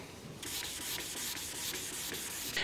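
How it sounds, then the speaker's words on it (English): Wet-sanding car paint by hand with 1500 grit sandpaper on a body panel, a steady close rasping rub with regular back-and-forth strokes, alone with no talk. "I've been sanding for about 12 minutes, but that's 1500"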